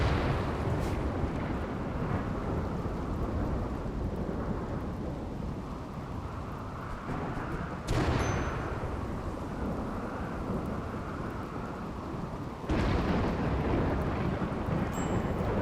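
A thunderstorm in the video game RimWorld, with steady heavy rain and a low rumbling wash broken by two sudden loud thunderclaps, then long rolling decays, no voices.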